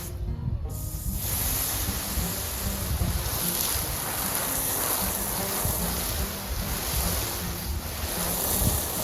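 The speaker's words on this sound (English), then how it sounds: "now I'll just water all of this in" Steady broadband hiss of water spraying over soil in a raised garden bed, loud and continuous after a brief quiet start, with no talking.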